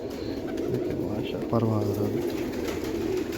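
Teddy pigeons coo in a low, rolling burst midway through, close and clear, while someone talks over and around them.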